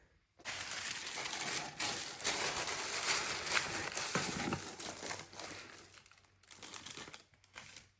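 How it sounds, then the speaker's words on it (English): Tissue paper crinkles and rustles continuously while orders are packed, close and fairly loud, with a brief pause near the end before more crumpling. "So let me grab some tissue paper."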